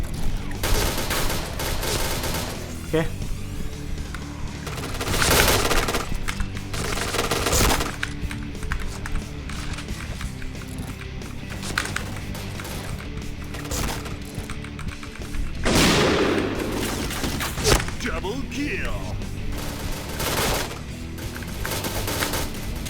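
Rapid machine-gun fire and explosive booms in the shooter game Point Blank, loud bursts recurring across the stretch with crashes and breaking sounds mixed in.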